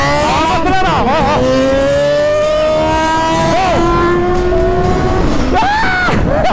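A Yamaha XJ6 motorcycle accelerates hard along a street, its engine note climbing through repeated rising pitch sweeps between gear changes, loud and close, with excited voices shouting over it.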